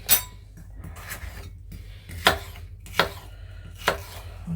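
A knife chops through an onion on a cutting board in a few separate sharp knocks spaced about a second apart, close and crisp, with quiet handling noise between the cuts and no talk.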